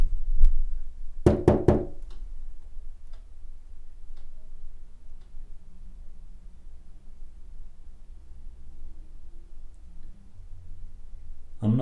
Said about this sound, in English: Could you knock after me?